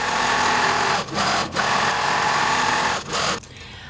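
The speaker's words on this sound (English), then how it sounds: "I'm gonna let it finish stitching this out." A King Quilter II quilting machine stitches a crosshatch pattern, a steady loud mechanical whir with brief dips as it pauses and changes direction, then it stops near the end.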